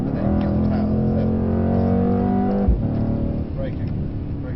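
A Mercedes-AMG 63 accelerates out of a corner on the Mercedes-Benz World driving circuit. Its engine drones loud and steady, then dips briefly, while an instructor talks over it.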